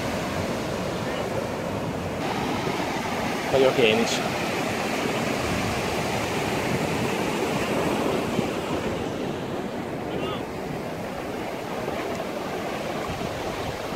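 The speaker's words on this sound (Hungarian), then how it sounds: "Szépen hullámzik." Ocean waves rolling and breaking on a Goa beach in India in a steady surf roar, with wind buffeting the microphone and a brief voice partway through.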